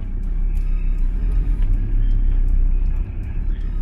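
A VW T4 Multivan rolling slowly into a hall, a steady low engine rumble and road drone close by throughout, with no talk over it.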